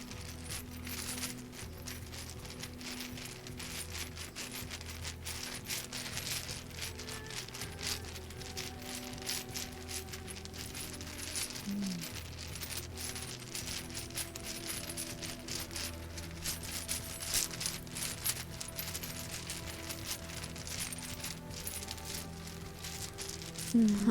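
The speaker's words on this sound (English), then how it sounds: "I have dice bag jingle." A bag of gaming dice is shaken steadily for a long stretch, giving a continuous close, soft clattering jingle of many small pieces tumbling against each other, with a faint low background tone.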